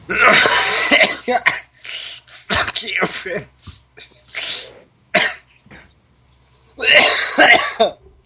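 A person coughs and clears their throat in repeated harsh, close bursts, mixed with talking voices and one loud outburst at the end.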